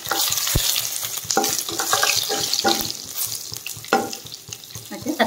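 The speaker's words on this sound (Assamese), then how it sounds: "তেল গৰম হৈ গৈছে, এতিয়া তেজপাত দি দিছোঁ, শুকান জলকীয়া আৰু পাঁচফোৰণ দিছোঁ।" Bay leaf, dried chili and panch phoron frying in hot oil for an Assamese duck and ash gourd curry, a steady sizzle broken by repeated stirring clicks and scrapes throughout, close and fairly loud with no talk.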